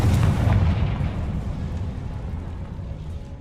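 A Confringo fire spell cast in Hogwarts Legacy erupts in a loud, close, booming burst at the start, then rumbles and fades away over a few seconds with no talking.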